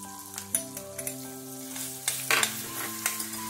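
Green chillies and ginger-garlic paste fry in hot oil with a pinch of asafoetida for vada pav, a steady sizzle with a few sharp spatula knocks, under sustained tonal music.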